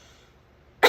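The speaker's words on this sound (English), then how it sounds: "Sorry, I'm coughing." One short, sharp human cough bursts out after nearly a second of quiet room noise.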